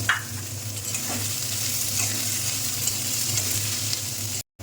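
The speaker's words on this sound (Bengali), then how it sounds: "পেঁয়াজটা একটু হালকা ভাজা হয়েছে" Sliced onions frying with two cardamom pods and cinnamon for a chicken tikka malai curry, giving a steady close sizzle with a few stirring scrapes, loud and alone throughout, before a brief cut near the end.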